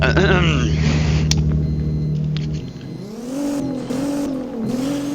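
A Nissan in the Driving Empire video game accelerates hard down a drag strip, its engine note climbing and dropping through several loud gear changes.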